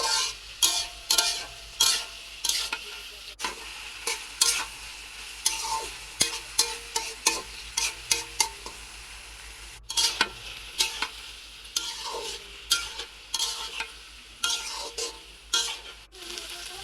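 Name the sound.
okra (bhindi) frying and being stirred in a pan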